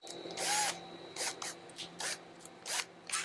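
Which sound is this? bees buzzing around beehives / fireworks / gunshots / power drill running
power drill running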